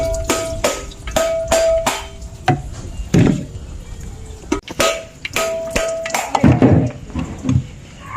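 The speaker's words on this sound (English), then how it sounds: "we just finished cracking all of the coconuts" Coconuts being cracked open by hand for homemade coconut oil in Guyana, a series of sharp ringing knocks in irregular bursts, close and loud, with duller thuds mixed in.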